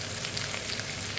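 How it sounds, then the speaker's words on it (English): Goat meat browning in vegetable oil gives a steady, close sizzle with fine crackles throughout a brief stretch, no voices. "I'm just going to let that sizzle away for maybe 3-4 minutes"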